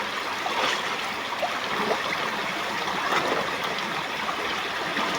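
A river streams along nearby, a steady broadband rush of flowing water with small splashy bursts, continuous and without voices.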